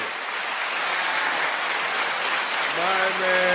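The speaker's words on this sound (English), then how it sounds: "Clap it up for me" Audience applause for a live episode-100 Q&A show, a steady rain-like wash of clapping that swells slightly, with a voice briefly cutting in near the end.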